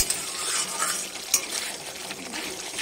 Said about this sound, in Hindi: अभी से हम और फ्राई करेंगे, मसाला को जितना फ्राई कीजिएगा उतना अच्छा बनेगा